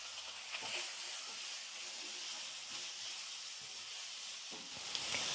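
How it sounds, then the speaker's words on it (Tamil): Chopped onion and curry leaves sauté in hot oil in a pan, making a steady, soft hiss and sizzle with a few faint utensil taps. "வெங்காயம் ரொம்ப வந்து வதங்க தேவையில்ல, ஓரளவுக்கு வதங்கினா போதும்."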